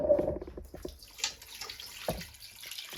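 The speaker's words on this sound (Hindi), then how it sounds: "फिर इसके अंदर मैं डालूंगी पानी" Water is poured from a tap or jug into a cooking pot holding chicken, giving a steady splashing, gurgling flow with a few brief louder splashes, close by and with no talk over it.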